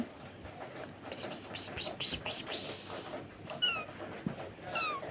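A frightened cat yowls and meows in several drawn-out cries, mixed with people talking nearby.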